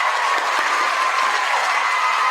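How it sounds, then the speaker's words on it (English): A studio audience applauds world-famous Chef Chaw during a live deluxe cheeseburger and crispy onion ring cooking class, giving steady, dense clapping with a few cheers throughout. "You guys wanna give Chef Chaw a round of applause?"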